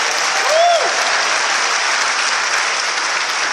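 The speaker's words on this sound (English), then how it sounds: "Give them a big round of applause." A packed room at Abyssinia Church in Harlem gives the event organizers a big round of applause, with dense, even clapping sustained throughout and a brief vocal cheer rising near the start.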